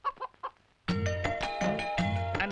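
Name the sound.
chicken clucking after jumping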